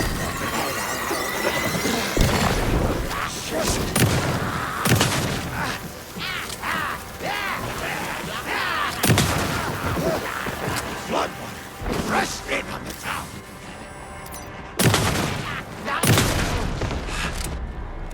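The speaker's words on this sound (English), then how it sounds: "the pistol, like, becomes even more inaccurate when you do that rapid fire thing" Rapid pistol fire in the video game Alan Wake 2, sharp shots in quick bursts with booming impacts, loud and close, while someone talks over the action.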